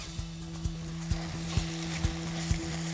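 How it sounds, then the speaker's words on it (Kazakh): Sugar and soy sauce sizzling in a pan, a steady hiss with regular rhythmic scraping strokes about twice a second as the mixture is stirred over a low hum, no voices. "Қант пен соя соусын қосқаннан кейін тағы да бір екі рет араластырып"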